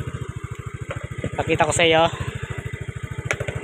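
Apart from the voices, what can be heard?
Yamaha Mio Fino scooter engine running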